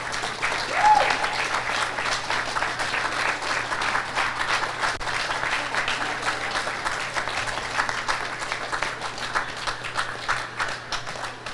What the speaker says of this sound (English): let's give our finalists, Women's Open finalists, another round of applause